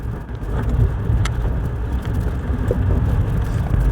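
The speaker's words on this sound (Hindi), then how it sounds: "ये देखो कैसे पिकअप ले रही है, एक्सेलरेशन कैसे कर रही है कार" A car engine hums steadily from inside the cabin, with a low, continuous road rumble and no talking.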